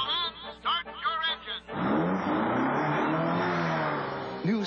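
In a TV commercial, a car engine starts with a few sputtering turns, then roars into loud, sustained revving that holds steady to the end.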